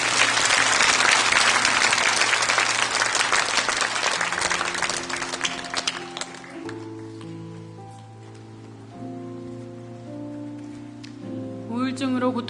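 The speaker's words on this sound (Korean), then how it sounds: "뜨거운 박수로 맞아 주시기 바랍니다" A church congregation applauds to welcome a woman coming forward, loud dense clapping that gradually thins and fades as sustained organ or keyboard chords take over, with a brief rise near the end.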